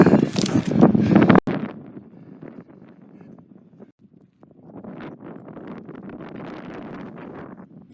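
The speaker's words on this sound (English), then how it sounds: "The wind is a little much around here." Gusty wind buffets the microphone outdoors, a loud roaring burst in the first second and a half, then a lower steady rumble that swells again toward the end.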